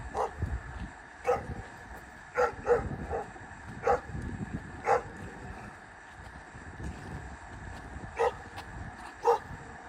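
Several dogs bark in scattered bursts at a moderate distance, the yaps spaced irregularly over a steady wind-like outdoor background, at a garden plot close to a road in Ulsan, South Korea.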